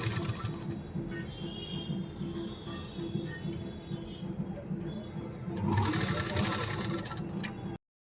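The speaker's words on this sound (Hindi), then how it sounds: "तो कपड़े को इजीली घुमाते जाएंगे और एक सिलाई लगा देंगे।" A sewing machine stitches a seam along the neckline of a kaftan, giving a steady close mechanical whirr with rapid needle ticking that holds throughout and swells slightly near the end before stopping abruptly.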